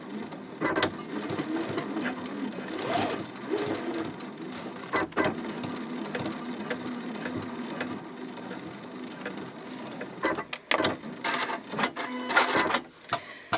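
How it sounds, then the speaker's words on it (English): Sewing machine stitching a ribbon cuff onto a mini Christmas stocking, basting near the edge with backstitching: a steady close mechanical whir broken by short stops and sharp clicks, with faster bursts near the end. "I will just baste it about 1/8 of an inch away from the edge. And I will backstitch over this a couple of times."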